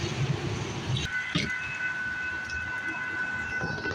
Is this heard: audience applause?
no